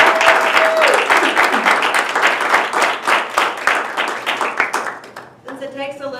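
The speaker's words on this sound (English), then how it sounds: "Let's hear a round of applause for our" A contest audience gives a loud round of applause, dense close clapping that swells and then thins out, with a voice speaking briefly at the start and again as it fades.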